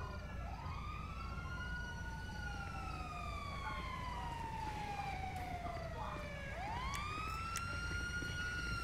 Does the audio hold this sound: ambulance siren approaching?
yes